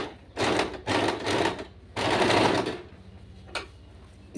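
A domestic sewing machine stitches a zigzag in short bursts, its fast needle chatter starting and stopping several times with brief pauses between runs.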